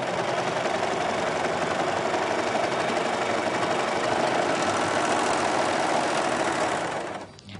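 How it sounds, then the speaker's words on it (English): A 4-thread serger sewing machine runs continuously while gathering fabric, a loud, steady, fast mechanical whir that holds evenly for several seconds and then winds down at the end. "we're going to go ahead and begin to gather"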